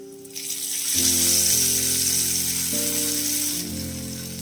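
Hot tempering of fried onion and curry leaves is poured into a jackfruit seed, mango and drumstick curry, bursting into a loud, close hiss that holds steadily and then eases slightly over a low, steady hum.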